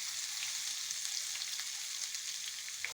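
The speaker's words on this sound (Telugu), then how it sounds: "ఆవాలు, జీరా వేస్తున్నా అండి. వెల్లుల్లి వేస్తున్నా అండి." Garlic, mustard seeds and cumin sizzle in hot oil for a tomato chutney tempering, a steady crackling hiss that stays even and fairly soft before cutting off abruptly.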